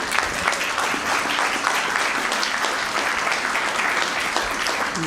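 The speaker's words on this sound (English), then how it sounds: "Let's give another round of applause." Audience applause at an Earth Day event on building local climate coalitions, a steady, dense clapping from a crowd that holds at even volume throughout.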